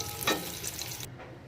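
Potatoes with salt and turmeric frying in hot oil, a soft steady sizzle with a brief stirring scrape, fairly quiet and close, cutting off abruptly near the end.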